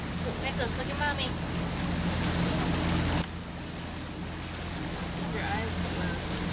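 A boat ride on the Rio Dulce near Guatemala, with steady engine drone, water rush and wind noise running throughout, dropping slightly halfway, while a child's and adults' voices chatter over it.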